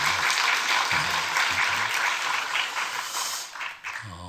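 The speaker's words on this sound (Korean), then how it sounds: "격려의 박수 한번 했습니다" A church congregation applauds in encouragement for the choir after a hymn, a dense sustained clapping that fades toward the end, with a voice briefly at the close.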